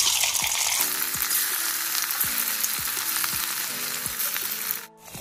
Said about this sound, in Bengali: এবার আমি একটা একটা করে চিকেনগুলো ভালোভাবে ভেজে নিব।